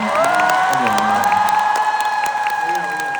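An indoor concert crowd cheers and claps loudly and continuously for the singer, with whoops riding over sustained high whistling shouts and a voice briefly talking.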